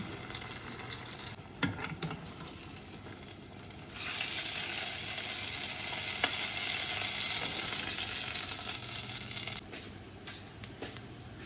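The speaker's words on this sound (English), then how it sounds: "now we got the water boiling" Steady broadband hiss and bubbling of water at a rolling boil in a pot, loud and continuous for several seconds, with a few clinks before and after.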